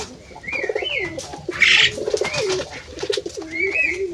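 A female Lakkha pigeon coos like a male close by in repeated throaty, rolling phrases, with a brief rustle or flutter in the middle.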